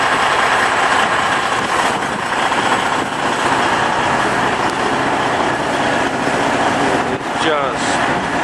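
Blizzard wind roars steadily around a truck parked beside another truck next to its trailer in Wisconsin, a loud continuous broadband rush with a brief gust shift near the end.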